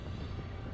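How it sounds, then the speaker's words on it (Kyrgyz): A long freight train rolls past, its steady low rumble and clatter of wagons filling the whole brief moment without a break. "Ошо жүк жүктөгөн поезд аябай узун улама, жөн эле."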